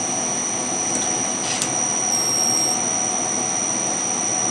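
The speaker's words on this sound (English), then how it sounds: "let's spin the spindle" A milling machine spindle spins with a Haimer probe fitted, giving a steady, piercing high whine that holds evenly throughout at close range, with no talk.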